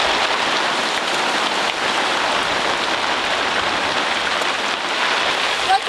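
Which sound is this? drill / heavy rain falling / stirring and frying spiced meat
heavy rain falling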